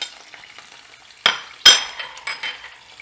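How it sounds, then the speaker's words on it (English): Soft crackling sizzle of capers in a frying pan with a few sharp clinks of a utensil against metal standing out. "Once those capers are sizzling away,"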